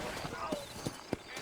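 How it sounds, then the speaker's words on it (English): In the Red Dead Redemption video game, horse hooves clop in a slow, uneven walking rhythm of a few distinct hits, moderately close, while someone speaks over them. "You ain't gonna find sturdier horses than these in all of New Orleans."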